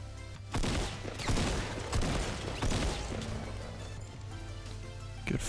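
Gunfire in Fortnite Battle Royale, a rapid series of sharp shots and bursts popping repeatedly over a low steady game hum, fairly quiet overall.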